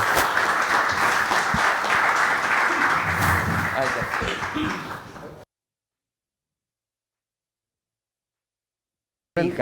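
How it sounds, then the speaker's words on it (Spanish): A lecture audience applauds the guest speaker at a masterclass, a loud sustained burst of clapping that slowly fades before dropping into silence, with voices mixed in. "le pido un fuerte aplauso para mi amigo, nuestro amigo, Antonio Ochoa."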